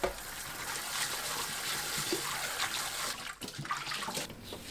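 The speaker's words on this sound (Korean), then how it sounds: "건져서 찬물에 헹굽니다." Boiled butterbur stalks being rinsed in cold water, with a steady faint splashing and trickling of running water and a few soft handling knocks.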